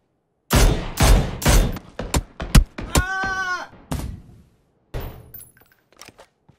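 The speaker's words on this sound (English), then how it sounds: "There were some easy shots I should have not have missed there." Several loud, sharp gunshots from the battle royale video game PUBG, fired in quick succession with echoing tails, followed by a few scattered fainter shots after a pause.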